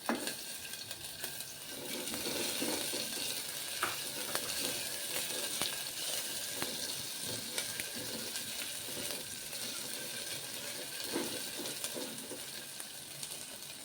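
Onion frying in a pan with ginger-garlic paste as a base for dal khichdi, a soft continuous sizzle with light stirring and occasional small clinks, fairly quiet and steady throughout.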